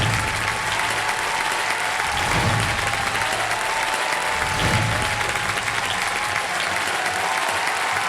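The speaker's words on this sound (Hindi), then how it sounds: "मैं चाहता हूं कि तालियों के साथ स्वागत किया जाए खान सर का और" A studio audience on a television quiz show claps in welcome, sustained dense applause at steady loudness for the whole stretch.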